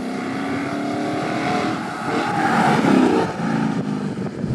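A Ford Mustang 5.0 V8 rumbles with a deep engine note that swells into a louder rev midway, then eases back while staying steady and close.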